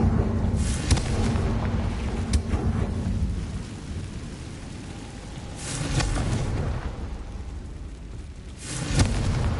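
Confringo fire spell explosions in Hogwarts Legacy: several booming blasts at irregular intervals, with heavier bursts near the middle and end, over a steady low rumbling background.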